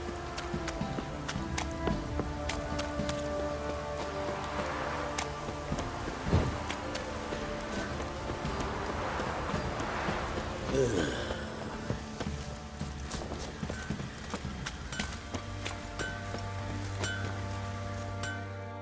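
Continuous rain in the video game Witcher 3 patters down with scattered drops and soft thuds, accompanied by a low background hum and occasional faint clopping steps.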